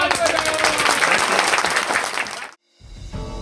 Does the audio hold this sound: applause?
yes